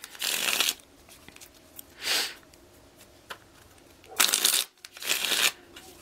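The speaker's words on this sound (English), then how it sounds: "Okay, 3 shuffles for Cancer and all those who love Cancer." Four bursts of tarot cards being riffled and shuffled, crisp papery rustles with brief quiet gaps between, close up.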